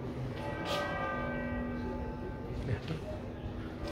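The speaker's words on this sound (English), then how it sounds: "The bells ring on time, of course." Church bells in Santiago de Compostela ring out on the hour with sustained, slightly tinny tones, moderately distant, under the murmur of people talking nearby.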